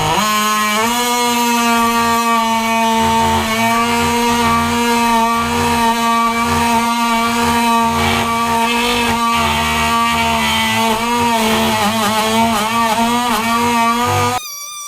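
A DeWalt DCS355 cordless oscillating multi-tool runs loud and close, holding a steady high buzzing whine with a shifting tone as it cuts, then stops abruptly near the end.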